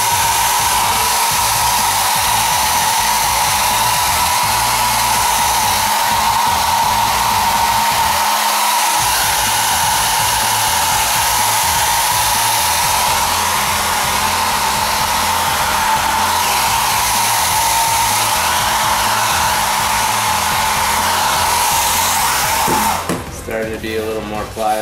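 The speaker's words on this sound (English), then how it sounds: "I'm just going to use a hair dryer and try to get this thing to bend." A hair dryer blows hot air onto craft foam to soften and bend it for a costume helmet, a loud continuous whooshing hum running nearly the whole time before cutting off near the end.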